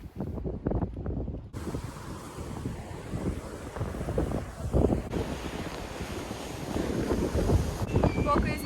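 Strong wind on the beach at Porthcawl, Wales, buffets the microphone with a steady roar, gusting throughout, with surf and water rushing underneath.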